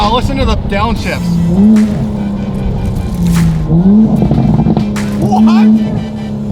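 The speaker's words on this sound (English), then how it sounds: "Wow, listen to the downshifts." Loud, aggressive exhaust from a straight-piped widebody 2020 Toyota Supra running through repeated revs and downshift blips, with pitch swooping up and down several times, heard close with talk mixed over it.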